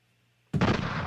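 A single loud gunshot sound effect cracks in abruptly after a near-silent start and booms on with a broad, dense blast that fills the rest of the moment.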